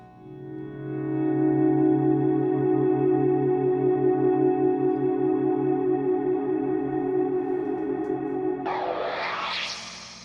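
A Strymon BigSky reverb pedal set to a trippy frozen reverb with high modulation speed holds a sustained, wavering chordal drone, then gives way to a brighter, swirling shimmer near the end.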